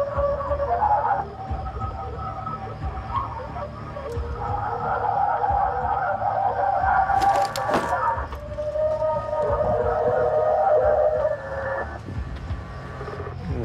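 An alleged Bigfoot howl recording plays through a PA system, giving long wavering mid-pitched howls that rise over steady background noise and fall away near the end.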